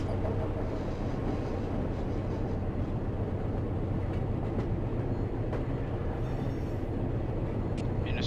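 A BNSF freight train in the Run 8 train simulator game rumbles steadily and loudly throughout, a continuous low roar of engine and rolling cars with faint clicks on top.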